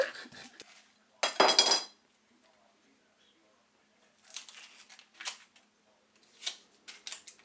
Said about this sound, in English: Here's an onion. Straight down the middle.